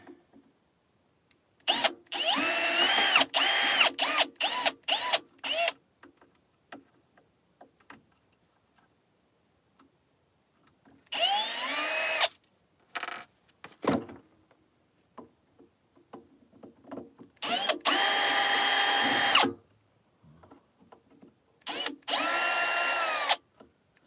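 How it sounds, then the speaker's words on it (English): A power drill unscrewing a VCA bus compressor from a studio rack, several loud bursts of whirring with short trigger taps and quiet gaps between them, with faint clicks and handling in the pauses. "let's get this VCA bus compressor unscrewed."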